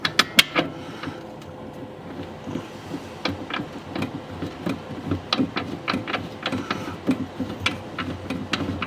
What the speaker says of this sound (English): we'll run that bolt all the way down and snug that clip up like so